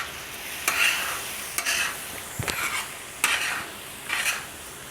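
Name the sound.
mutton liver masala cooking on a tawa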